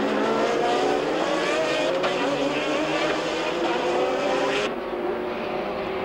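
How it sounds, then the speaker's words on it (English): A 1987 Sauber sports-prototype race car at the Norisring street circuit drives its engine hard, a loud continuous roar under full throttle that holds steady, then shifts pitch as it changes gear. "The lead increases as Kiwi Thackwell keeps his foot to the floor, the big Sauber bucking over the Norisring bumps."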